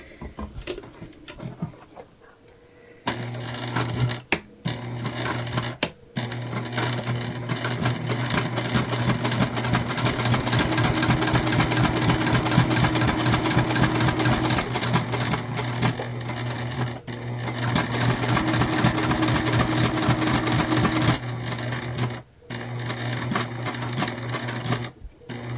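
Sewing machine stitching pouches made from HomeGoods placemats, running steadily and loudly for about twenty seconds after a few brief starts, with short pauses and handling clicks near the end.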